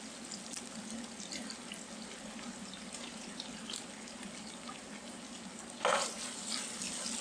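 Chopped onion and garlic fry in oil in a pot for Hungarian goulash, a steady low hiss of sizzling throughout, with a brief louder stir near the end.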